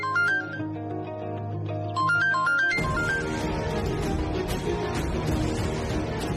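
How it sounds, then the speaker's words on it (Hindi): A mobile phone rings somewhere in a room with a bright, repeating electronic melody. After a few seconds it is swallowed by louder, dense background sound. "ये घंटी की आवाज तो इसी कमरे से आ रही है।"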